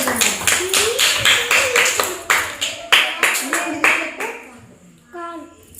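Children in a primary school classroom clapping in a quick, steady run of sharp, close claps lasting several seconds, with children's voices mixed in.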